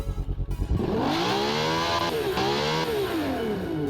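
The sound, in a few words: custom V12 engine revving in a car-building video game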